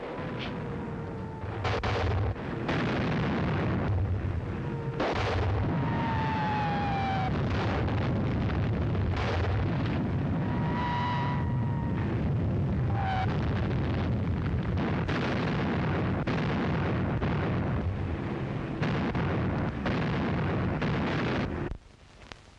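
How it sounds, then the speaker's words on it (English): A bombardment in a 1938 film set in Shanghai keeps up dense, rumbling explosions and booms for over twenty seconds, with occasional whistling shells, before cutting off abruptly. "Another bombardment."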